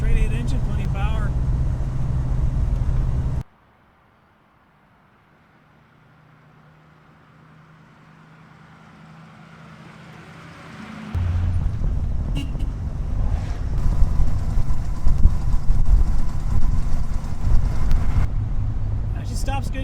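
A 1931 Buick Series 60 sedan with a straight-eight engine cruising in third gear at about 35 mph gives a steady low engine hum with road and wind noise. A sudden near-silence follows, then the hum slowly builds back to full volume.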